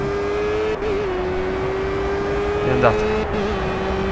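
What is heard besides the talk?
Formula Gulf (Renault) race car engine, Project Cars video game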